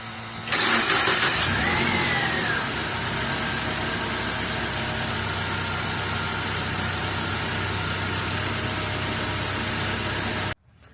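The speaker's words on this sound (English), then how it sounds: "Start the car up" A car engine with a suspected blown head gasket cranks and catches after a brief moment, flares up, then settles into a steady idle rumble that continues close and alone until the clip cuts off.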